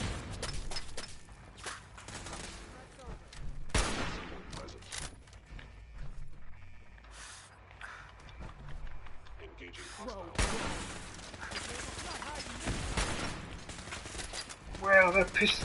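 Pistol gunfire in the Fallout 4 video game, a series of sharp shots in bursts mixed with other combat clatter and game sounds, with a voice heard at times.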